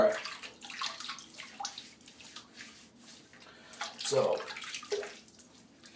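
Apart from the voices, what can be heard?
running water wetting the head before shaving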